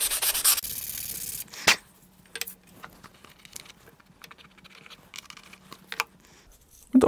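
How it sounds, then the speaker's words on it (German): Overstanding paper remnants being briefly sanded off glued wood pieces for a turned inside-out Christmas ornament; scratchy rubbing strokes come in intermittent bursts, close and fairly quiet, with a few sharper knocks and no speech. "Die überstehenden Papierreste noch kurz abschleifen"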